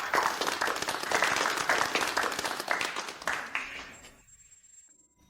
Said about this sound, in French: Applaudissons une dernière fois Monsieur Zhang pour le remercier de son généreux don.